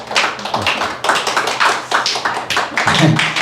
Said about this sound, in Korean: 격려의 박수, 응원의 박수 드리면 좋겠습니다